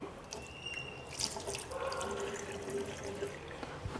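Water runs steadily from a tap into a container at home, a continuous soft splashing flow with brief drips, heard alone without talk.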